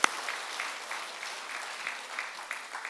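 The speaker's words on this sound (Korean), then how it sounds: "박수 한번 해요" Church congregation at Yangpyeong-dong Church applauds in a steady, moderately loud patter of many hands lasting a few seconds, starting with a sharp clap and carrying on alone without speech.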